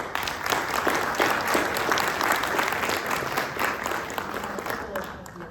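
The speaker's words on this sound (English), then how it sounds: "Can we give our panelists a round of applause?" Audience applause for panelists at an angel investing event during a Seattle tech week, dense steady clapping from a room full of people that tapers slightly at the end.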